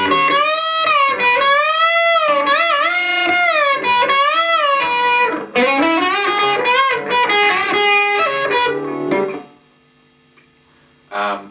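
Electric guitar second solo, played on the bridge pickup for a brighter, trebly tone: loud sustained bending lead lines with vibrato for about nine seconds, then a near-silent gap before a brief final note.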